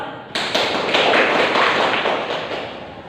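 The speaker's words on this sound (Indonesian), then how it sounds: "mari kita beri aplaus" A classroom group applauds together, a dense burst of many hands clapping that starts abruptly, holds steady for about three seconds and then fades slightly.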